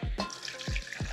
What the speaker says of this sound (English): So what I need to do is measure it and then dilute it just with water.